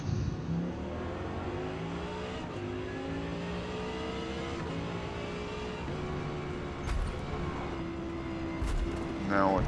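An Audi R8 GT race car in Forza Motorsport at Mid Ohio accelerates hard, its engine climbing through rising revs with gear-change dips, loud and continuous, while someone speaks over it.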